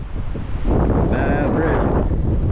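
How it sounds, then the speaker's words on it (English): Strong wind buffeting the microphone beside a deep cliff during a road trip through California and Reno, a loud continuous roaring rush with a person's voice briefly heard through it. "Wind's blowing me right out of it."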